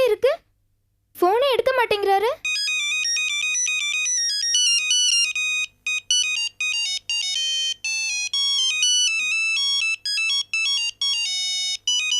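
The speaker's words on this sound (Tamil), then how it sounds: "நம்மளே ஃபோன் பண்ணி பேசிடலாம்" A mobile phone plays a melodic ringtone while placing an outgoing call. Bright electronic notes repeat in short phrases with small gaps, close and clear, after a brief voice-like sound at the start.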